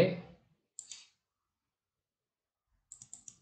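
A few computer keyboard keys pressed one at a time, each giving a short, crisp click in a quiet room, with a pause between an early pair and a later quick run of three or four presses.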